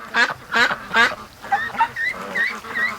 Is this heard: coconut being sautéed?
no